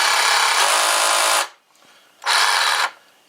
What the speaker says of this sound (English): Typical reciprocating saw, right?